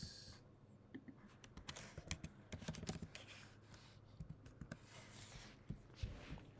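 Typing on a computer keyboard: a quick run of close, light key clicks tapping in irregular bursts, steady throughout against a faint background hum.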